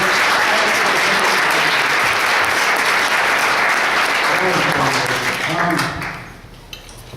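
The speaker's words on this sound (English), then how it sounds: "Another round of applause for Neil Franklin." Loud, dense audience applause after a university talk, many hands clapping steadily for about six seconds before fading quickly into a quiet room.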